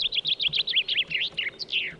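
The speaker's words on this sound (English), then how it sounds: "I can hear the birds." Birds chirp in the survival video game UnReal World, a rapid run of bright, clear tweets and warbling calls repeating close together, fairly loud over a quiet background with no talk.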